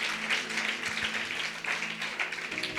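Church congregation clapping in praise during a worship service, a steady dense patter of many hands sustained throughout at moderate level, with a faint low hum underneath.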